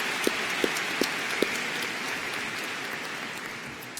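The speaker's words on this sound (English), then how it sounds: "Let's give them all a round of applause." Steady, dense applause from a large audience fills a high school graduation ceremony, a continuous wash of many hands clapping at moderate distance, with a few sharper claps standing out near the start.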